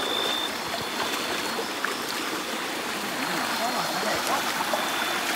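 A wide, rough forest stream rushes steadily nearby, a continuous broad wash of water noise at an even level throughout.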